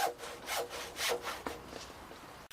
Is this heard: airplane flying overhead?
no